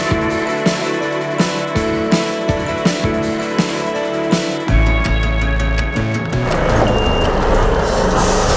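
A long lorry manoeuvring around a tight corner on a building site during a liquid screed delivery, its reversing alarm pulsing in steady repeated beeps before a heavy diesel engine rumble and air hiss take over, close and loud.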